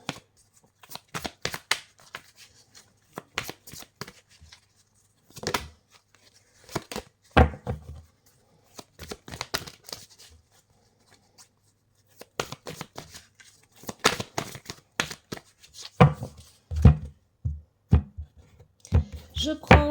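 Oracle cards being shuffled by hand in repeated brisk riffling bursts separated by short pauses, close and crisp, with no talking.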